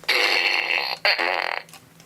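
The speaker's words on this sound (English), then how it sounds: "I think Therefore, I fart." A loud, buzzy fart sounds in two close bursts, the second ending in a quick sputtering flutter, near and dry with no speech over it, as part of a comedy bit.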